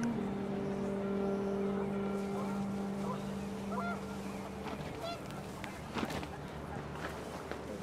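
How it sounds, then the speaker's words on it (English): Panicked geese honk in What Remains of Edith Finch as wind picks up, a scattered flurry of calls rising over a steady windy backdrop while a voice talks over them. "The wind picked up, and panicked geese appeared and quickly went."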